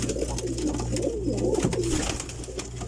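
Pigeons kept by a pigeon fancier in Saudi Arabia, flying and breeding birds, coo continuously up close in a loud, throaty, rolling murmur with no talk.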